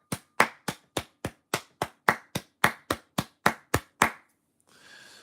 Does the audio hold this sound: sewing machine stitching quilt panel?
no